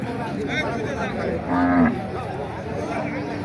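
A Sahiwal cow gives a short, low moo close by at a busy cattle market in Naogaon, Bangladesh, heard amid people talking and general crowd chatter.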